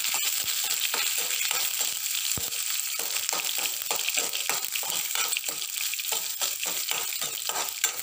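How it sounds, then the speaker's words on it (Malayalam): Sliced onions fry in oil with curry leaves in a pan for Kerala-style fish peera, giving a loud, continuous close sizzle with repeated scraping stirs in a loose rhythm, no talking. "ഇത് നന്നായിട്ടൊന്ന് മൂക്കട്ടെ, ഈ ഉള്ളി ഒന്ന് നന്നായിട്ട് മൂക്കട്ടെ."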